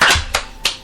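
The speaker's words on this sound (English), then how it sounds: "Slow clap." Three slow, deliberate hand claps, close and crisp, spaced about a third of a second apart with no talking.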